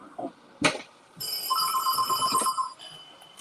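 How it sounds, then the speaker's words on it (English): A telephone rings indoors, its electronic bell tone repeating clearly for a second or so with no one talking over it, after a sharp knock just before. "Where's my phone?"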